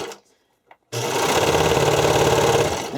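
Sewing machine stitching an elastic strap for swimwear or spandex costuming, starting abruptly after a brief quiet moment and then running in a fast, steady mechanical rattle close by.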